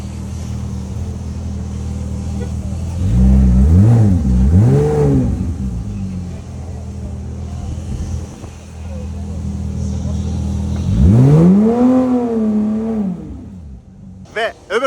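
Porsche sports car engine revving hard twice nearby at a rally car lineup, each rev climbing and dropping back, with a short blip at the end.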